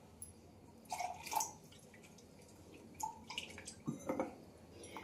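Plain water is poured while cooking a dish, with faint, scattered splashes and drips in short bursts separated by quiet pauses.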